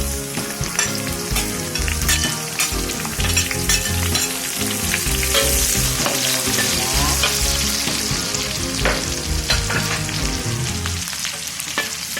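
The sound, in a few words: garlic and shallots frying in a pan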